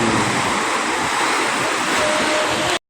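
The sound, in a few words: whitecap sea waves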